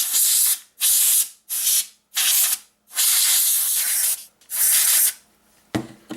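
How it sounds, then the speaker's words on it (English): An air duster blows metal shavings off a SPAS 12 shotgun stock in six sharp, close hissing bursts separated by short pauses, followed by a faint clatter at the end. "You might grab an air duster or some fresh towels."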